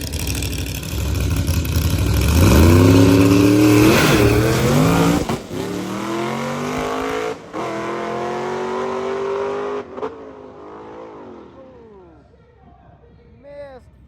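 A loud stick-shift drag car launches and accelerates hard down the strip, rising through gears with brief drops at the shifts, then fades into the distance while a commentator talks over it.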